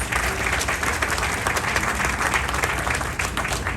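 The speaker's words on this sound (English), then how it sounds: "please, big round of applause to the COG and its members" A crowd applauds the COG and its members at the Foothill Gold Line track completion ceremony in loud, continuous clapping with a few sharper claps, lasting the whole stretch, with no voices over it.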